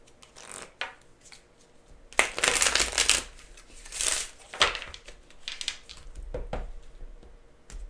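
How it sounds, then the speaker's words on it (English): Pink foil tarot-style cards shuffled by hand, close and crisp, in several bursts of riffling and slapping with short pauses between. "I'm going to skip through doing these shuffle again on these pink foil cards"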